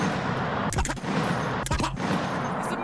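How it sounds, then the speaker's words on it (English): Two short bursts of rapid machine gun fire, each under a second and separated by about a second, crackle over a steady background hum with no talking. "It's a machine gun!"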